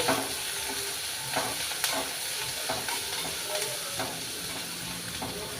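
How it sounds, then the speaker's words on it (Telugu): Onions frying in a pan for a bean and tomato curry, a continuous sizzle with intermittent scraping stirs and soft clicks close at hand, no voices. "ఈ ఉల్లిపాయలు అనేవి బ్రౌన్ కలర్ వచ్చినంత వరకు వేయించుకోవాలి"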